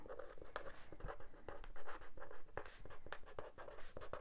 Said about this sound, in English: I'm writing a lot